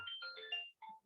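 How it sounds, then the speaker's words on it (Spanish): A telephone ringtone cuts into a lecture on constitutionalism, a short electronic melodic ring of bright tones lasting about a second, fairly faint and alone with no talk. "cuando me interrumpió el teléfono"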